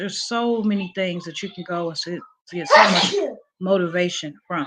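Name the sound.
sneeze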